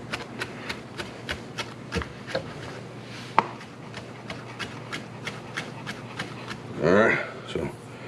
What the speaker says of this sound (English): Just keep chopping it up until you get it fine